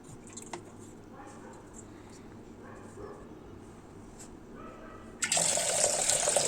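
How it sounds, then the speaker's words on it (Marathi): Water pours into a cooking pot holding sliced drumsticks, a loud steady splashing rush that starts suddenly near the end after a stretch of quiet kitchen background with faint distant sounds. "पातेल्यात पाणी घातलं"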